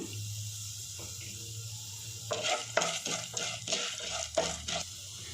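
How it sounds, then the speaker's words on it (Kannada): Chana dal and urad dal frying in a little oil in a pan, a quiet hum giving way to bursts of scraping and crackling as a spoon stirs them, close and fairly soft, with no speech. "ಬಾಣಲಿಗೆ ಎರಡು ಸ್ಪೂನು ಎಣ್ಣೆ ಹಾಕ್ಕೊಂಡಿದ್ದೀನಿ ಕಡಲೆಬೇಳೆ ಒಂದು ಸ್ಪೂನು ಇದನ್ನು ಸ್ವಲ್ಪ ಫ್ರೈ ಮಾಡ್ಕೋಬೇಕು"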